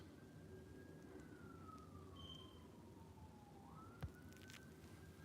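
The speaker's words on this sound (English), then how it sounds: "you can hear these sirens going off outside my window" Sirens sweep past on a city highway outside a window, a single faint wailing tone slowly falling then rising again, distant and thin over a steady low traffic rumble, with one brief sharp knock near the end.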